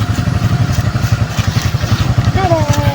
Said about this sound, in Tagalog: At ito po yung gamit na motor natin ngayon.